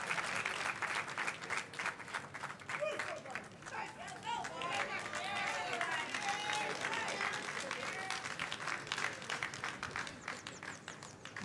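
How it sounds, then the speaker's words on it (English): Steady applause from a crowd at a military recruit pass-out parade, sustained clapping at even loudness with a faint murmur of voices mixed in. "Please feel free to give applause to the awardees."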